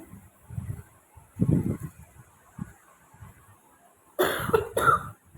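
A woman coughs several times, with soft muffled coughs early on and then two louder, harsher bursts near the end, close up with no other talking.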